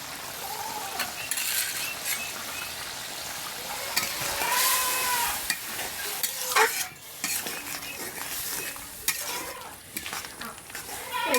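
Duck curry with ground cumin paste stirred in a pan: repeated close spatula scrapes and metallic clinks against the pan over a continuous simmering sizzle, no voices.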